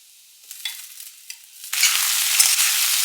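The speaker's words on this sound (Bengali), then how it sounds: "আলু আর পেঁয়াজ কলিটা অ্যাড করে দেবো আর তারপরে মশলা দিয়ে কষাবো।" Potatoes and onion stalks hit hot oil in a pan, a few soft stirring scrapes followed by a sudden loud, steady sizzle of frying close by.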